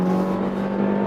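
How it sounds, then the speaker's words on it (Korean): A Kia K5 160-horsepower car engine in sport mode under hard acceleration with the pedal floored: a loud, steady drone with a strong low hum, close by and continuous, held at high revs. "가속 페달을 꾹 밟고 퀵타운을 겁니다"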